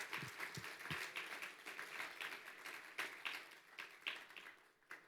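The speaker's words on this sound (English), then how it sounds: "give a round of applause to all the leaders and volunteers of" An audience at a startup pitch competition finals night in Denver applauding, faint and somewhat distant, with irregular individual claps standing out from the crowd.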